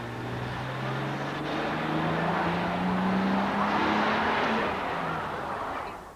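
A car accelerates hard away from school gates in a staged TV crime reconstruction, its engine tone rising steadily over about six seconds, loud and continuous with no talk.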